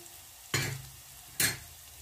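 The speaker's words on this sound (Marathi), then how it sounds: "ही पेस्ट छान तेलामध्ये झालेली आहे" Ginger, garlic and coriander paste frying in hot oil with mustard seeds, a soft background sizzle with two distinct bursts of stirring or spattering, no speech.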